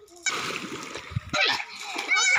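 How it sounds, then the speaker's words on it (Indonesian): Children swimming in the open sea off a jetty in Moora district, Nabire, splashing steadily; the watery splashing runs throughout with bursts of sloshing, and a voice is faintly audible underneath. "Ini mau perempuan, mau laki-laki, pintar berenang semua."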